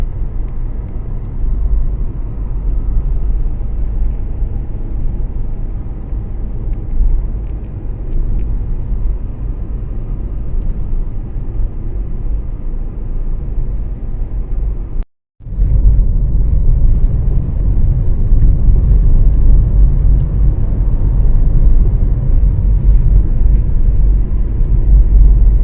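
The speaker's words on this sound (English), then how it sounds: "Driving in the Cotswolds." A car drives along a road in the Cotswolds, a steady low rumbling road and engine noise that holds for the whole stretch, broken by a brief silent cut near the middle before resuming just as loud.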